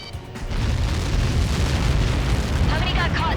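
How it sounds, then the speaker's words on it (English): Missile impact in the jet combat game Ace Combat 7, a loud sustained roaring explosion that swells and rumbles heavily for several seconds, with crackling debris toward the end. "How many got caught in that explosion?"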